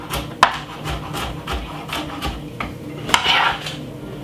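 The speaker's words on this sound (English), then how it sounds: "I'm gonna just simply cut them up a little bit finely" Knife chopping garlic cloves finely on a board, a few sharp clicking taps spread out at irregular intervals, close and fairly distinct against a quiet kitchen background.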